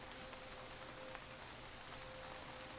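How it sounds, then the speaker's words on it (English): Steady, faint rain falls in the Starbound video game as an even hiss with a soft pattering texture, alone and without talking. "Oh, hey, it's raining."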